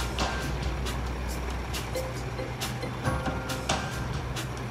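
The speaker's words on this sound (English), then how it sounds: "On Monday, there were several different trucks involved." Several trucks work at a construction site behind a foundation line, hauling spoil: a low, steady engine rumble with faint intermittent beeps and hissing bursts, moderately distant, with no talking.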